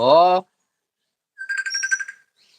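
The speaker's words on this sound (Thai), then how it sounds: "สายเข้าครับ สายเข้า" An incoming-call phone ringtone plays as a pulsing electronic tune for under a second, following a brief loud voiced sound that may be a parrot or person, with no talk over the ring.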